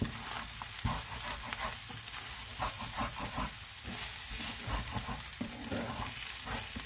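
Poultry thighs frying in a pan for a pastilla: a steady, dense sizzle with crackling pops running the whole time, close and fairly loud.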